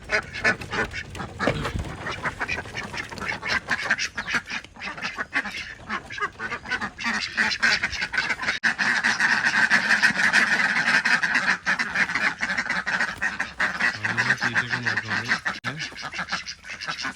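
Ducks quack steadily and noisily throughout, a dense chorus of many birds nearby with continuous overlapping calls.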